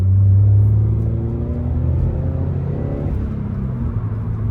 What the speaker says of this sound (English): we'll do a 3 to 4 pull just so you can hear the engine purr a little bit here